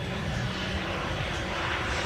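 A small model jet with a 45 Newton turbine makes a low flying pass at an airshow, giving a steady broadband roar with a constant, even level and no voices.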